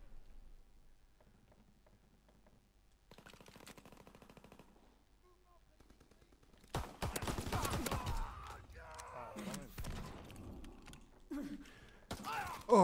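Gunfire in the World War II shooter Call of Duty WWII: faint scattered shots early on, then a loud burst of rapid automatic fire midway followed by further sharp reports, with someone speaking quietly at times.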